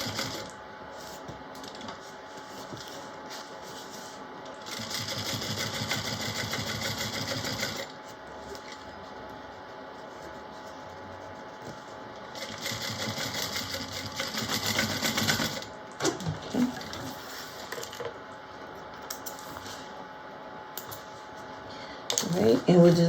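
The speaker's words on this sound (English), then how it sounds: "we're going to top stitch from the beginning to the end of our lining" A sewing machine top stitches along a bag lining beside the zipper tape in two sustained whirring runs of a few seconds each, with a person speaking around and between the stitching.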